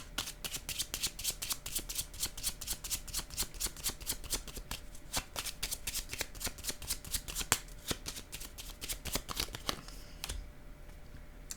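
Playing cards are handled and drawn from a deck during a card reading. Rapid, close riffling and snapping comes in steady bursts for about ten seconds, then fades to quiet handling.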